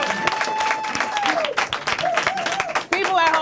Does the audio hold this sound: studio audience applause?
yes